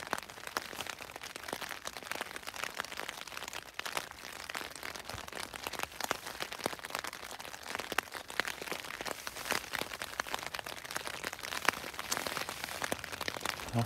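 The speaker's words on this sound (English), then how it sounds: "it's raining again" Steady early-morning rain pattering on a tent along St Cuthbert's Way in the UK, a dense continuous patter of close drops with scattered sharper taps and no voices.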